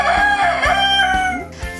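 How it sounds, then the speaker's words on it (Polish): Farm chickens cluck in a busy flock while a rooster crows loudly close by, the calls overlapping continuously through a muddy farmyard scene. "Ile kur!"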